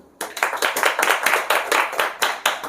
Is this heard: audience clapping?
yes